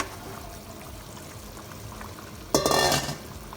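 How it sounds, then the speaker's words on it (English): Scallops and shrimp dropped into a paella pan on high heat, a sudden loud sizzle bursting in after a quiet stretch of low kitchen noise. "I'm going to add my scallops and my shrimps."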